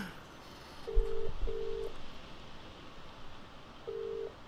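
A telephone rings unanswered during a call in a full motion video game: three short, steady electronic ring tones sound at moderate volume over a constant hiss, with a long gap before the third.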